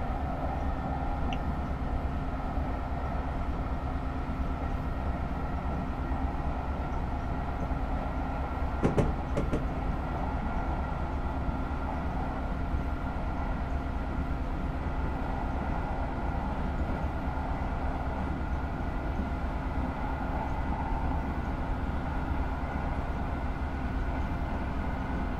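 An LA commuter F59PH diesel locomotive runs on the Pacific Surfliner line, giving a steady, loud rumble with a constant engine hum. The drone continues throughout, with a brief rattling clatter near the middle.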